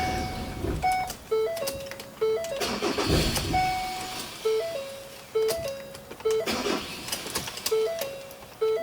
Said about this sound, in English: that's the engine won't even start unless it's warm